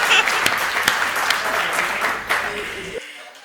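A Hindi poetry gathering's audience bursts into loud, dense applause, many hands clapping together in a steady roar that holds for about three seconds before dying away abruptly into quiet.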